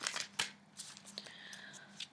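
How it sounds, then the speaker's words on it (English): Tantric Dakini Oracle tarot cards being shuffled by hand in a quiet room, soft papery riffles and flicks in short uneven bursts, close and faint. "I can't shuffle these."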